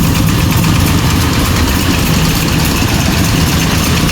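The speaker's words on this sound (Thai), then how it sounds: "โหตั้งเครื่องสูบน้ำ" Several water pump engines running together at a temple during a severe flood, draining water into a canal, heard as a loud, steady, close engine drone with no breaks and no talk.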